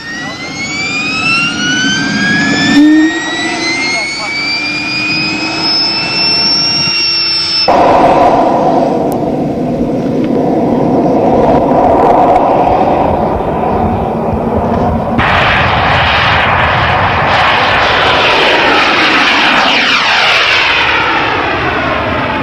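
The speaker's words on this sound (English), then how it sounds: "Now firing up his engine." A model aircraft jet turbine engine on a runway winds up with rising whines and high squeals, then settles into a loud, steady roaring rush.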